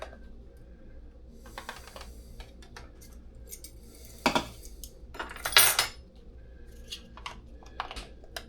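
Metal measuring spoons clinking and rattling while being handled in a kitchen, a few sparse light taps followed by louder jangling clusters near the middle, then more scattered clicks.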